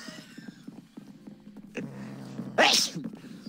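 A single sharp sneeze bursts out near the end over a busy Minecraft game soundtrack of footsteps and clatter, loud and close, followed by a brief pause.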